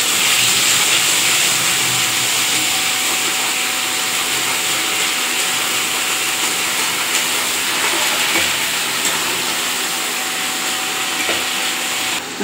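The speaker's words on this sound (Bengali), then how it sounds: "একটু ভাজা ভাজা হোক। সেই আদা জিরে বাটা পেস্টটা এবার আমি এতে দেব" Ginger, cumin and black pepper paste frying in a pan for a Bengali hilsa curry gives off a loud, steady sizzling hiss that holds without a break for about twelve seconds, with no voices.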